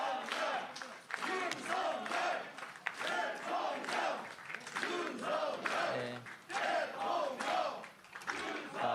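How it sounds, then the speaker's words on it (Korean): Party staff in the People Power Party election situation room chant Yoon Suk-yeol's name in rhythmic group shouts on presidential election night, repeated crowd cheers rising and falling in a steady pulsing pattern. "윤석열 대통령을 외치고 있는 국민의힘 선거 상황실입니다."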